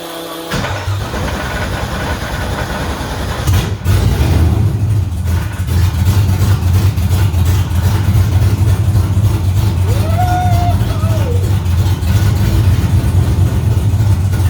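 A freshly rebuilt car engine cranks and catches after a brief silence, then settles into a steady, loud idle that runs on continuously, with a faint higher whine appearing partway through.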